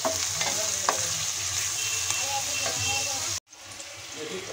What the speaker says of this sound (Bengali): পেঁয়াজটা হালকা সফট হওয়া পর্যন্ত ভেজে নেব